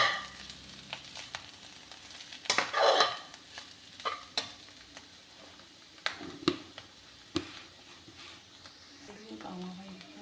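Bitter gourd curry is stirred in a pan, a spoon scraping and clattering through it in scattered knocks over a faint low sizzle, with one louder burst of frying noise near the start.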